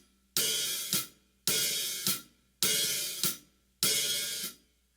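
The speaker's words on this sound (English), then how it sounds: "this time we're introducing an open hi-hat with the left foot" Slow disco beat on a drum kit, four even bars of kick and snare under a steady hi-hat, with a foot-opened hi-hat washing on each and before snapping shut, close and clear with no talking.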